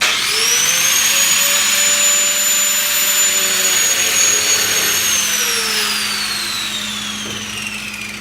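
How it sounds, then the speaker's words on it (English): A small grinding wheel cuts through a metal part on a BMW E28, giving a loud, high, steady whine that holds for several seconds, then drops in pitch and fades as the wheel slows down. "I'm going to try and cut this off with a little grinding wheel"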